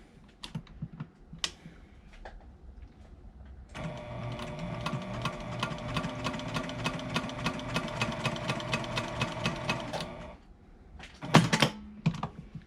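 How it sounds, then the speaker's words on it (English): A sewing machine stitches a fabric face mask along a marked line, running in one steady, fast mechanical burst of several seconds, with quieter handling noises before and a few clicks after. "I'm going to sew right along that line"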